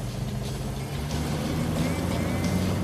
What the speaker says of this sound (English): That whining sound, I believe, is the speedometer just putting in some work.